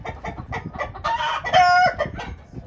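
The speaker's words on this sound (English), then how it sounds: "so it's P-Dub who's trying to lay an egg, and P-Dub is Green Legs' #1 mama hen" A hen straining to lay an egg gives loud, close, agitated clucks and squawks that rise into a drawn-out, crowing-like call before settling back into choppy clucking.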